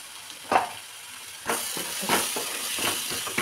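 Spices sizzle in hot oil while whole masoor dal is sautéed with turmeric and coriander-cumin powder, a steady hiss broken by several sharp crackling bursts as the pan is stirred, with no talking.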